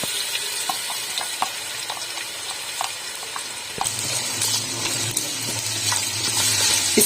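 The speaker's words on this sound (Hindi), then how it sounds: "ऑयल हमारा गर्म हो गया, अब इसमें प्याज डाल दूंगी।" Sliced onions go into a pot of hot oil, about a cup of it, and the soft background hiss jumps partway through into a loud, steady, close sizzle that keeps building.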